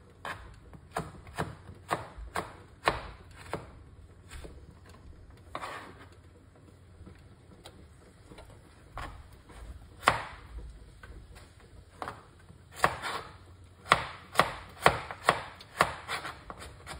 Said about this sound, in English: Chop up some carrot